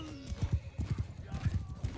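Horse hooves pound in rapid rhythmic beats in a battle in the game Bannerlord, a close, thudding clip-clop run lasting a couple of seconds.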